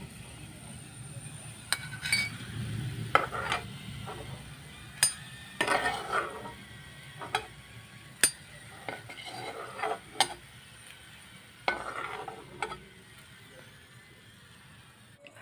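Garlic frying in a pan, with intermittent clinks and scrapes of a spoon scooping it out against the metal pan, clear and close over a faint background sizzle.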